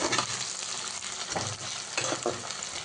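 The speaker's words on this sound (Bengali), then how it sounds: "আমি ভালো করে পেঁয়াজটা একটু লালচে করে কষিয়ে নেব" Onions sizzle and fry in a pan for a spicy dhania chicken curry, reddening as they are stirred, with several clear scraping stirs over a steady close crackle and no talk.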